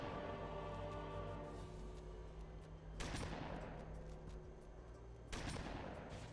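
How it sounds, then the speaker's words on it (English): Gunfire in the real-time strategy game Halo Wars: sustained battle noise under a steady hum, with two sharp bursts of shots breaking through. "Who's shooting?"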